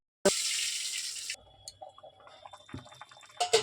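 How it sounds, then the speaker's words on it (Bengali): Water pours in a loud, steady rush for about a second into a pan of simmering egg curry, then gives way to quiet bubbling and scattered clinks. "এবার আমি জলটা দিয়ে দিলাম, পরিমাণ মতন দিলাম"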